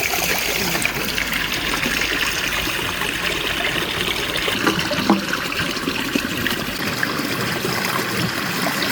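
Water flowing in a mountain creek, a steady broadband rush and trickle that fills the whole stretch, close and constant without any talk over it.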